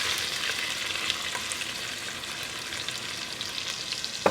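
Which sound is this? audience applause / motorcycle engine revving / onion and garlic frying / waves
onion and garlic frying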